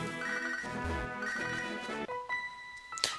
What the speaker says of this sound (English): I feel like a phone's ringing somewhere near me